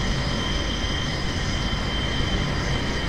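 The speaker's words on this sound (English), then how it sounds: "This airplane is loud too." A loud airplane in the driving simulator BeamNG.drive drones with a steady, dense engine roar that stays constant and close throughout, with no talk.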